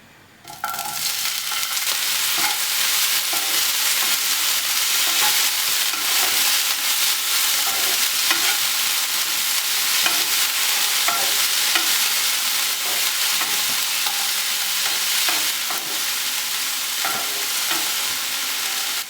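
Broccoli sautés in the same hot oil used to fry paneer, giving a loud, continuous close sizzle with soft stirring scrapes and no voices.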